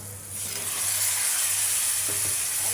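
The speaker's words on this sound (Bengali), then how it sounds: "এখন কেটে রাখা বেগুনগুলো দিয়ে দিব।" Cut eggplant pieces go into a spice paste already frying in a pan for a home-style pabda fish curry, bringing a loud, steady sizzle and hiss after a brief quieter moment, with faint stirring underneath.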